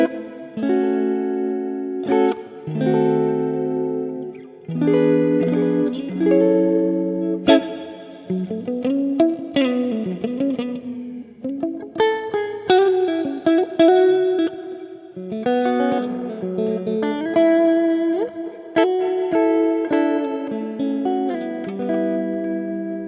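A clean, plucked electric guitar passage runs through an IK Multimedia X-Space reverb plugin. Notes and chords ring out with a chorused, spacious tail filling the gaps between phrases.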